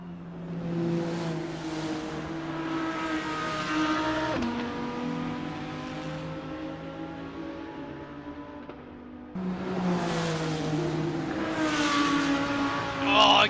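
Lamborghini GT3 race car engine at Laguna Seca in a racing game, a sustained loud harmonic drone that holds steady, dips briefly around a gear change, then climbs again as the revs rise, with no talk over it.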